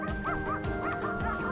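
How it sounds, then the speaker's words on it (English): Hunting hounds bay at a wild boar they have cornered, sending out loud, repeated barks in a steady, relentless rhythm close at hand. "Within minutes, the hounds' barking erupted, loud and relentless, a clear sign they had cornered the target."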